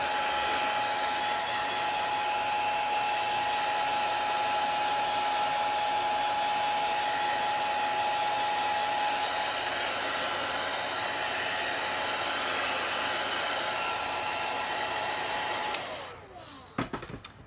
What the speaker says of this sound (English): Don't want it hot, just want it air blowing on it.